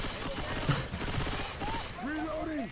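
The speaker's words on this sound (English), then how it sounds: "I'm talking about shooting my teammates." Gunfire in the Left 4 Dead 2 video game, rapid bursts of shots close by, mixed with speech and other game sounds over a couple of seconds.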